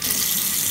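Tap water gushing after a supply outage ends, a loud, steady hissing stream into a sink, close and continuous with no talk over it.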